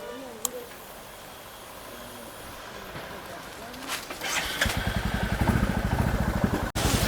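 Quiet outdoor ambience with a few knocks gives way to a motorcycle engine starting up and idling with a steady, rapid putter close by.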